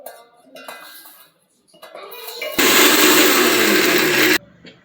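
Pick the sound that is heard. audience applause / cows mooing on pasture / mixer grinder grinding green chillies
mixer grinder grinding green chillies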